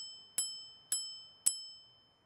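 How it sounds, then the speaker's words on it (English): Ninebot G30LP electric scooter bell rung three times at an even pace, each bright metallic ding ringing out and decaying, close and alone in quiet surroundings. "we're going to do a quick bell test because obviously it's a scooter"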